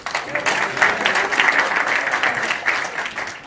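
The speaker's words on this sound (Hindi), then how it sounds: "ताली बजाइए इनके घर में।" An audience at a public speech claps steadily, a dense, continuous patter of many hands close and loud throughout, with no talking over it.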